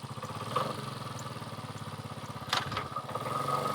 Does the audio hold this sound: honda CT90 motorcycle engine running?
yes